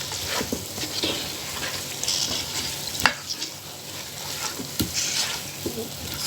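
Potato and cauliflower pieces with turmeric being stirred in a pan, with a continuous sizzle broken by scraping strokes and a few sharp clacks of the spoon against the metal, up close and fairly loud.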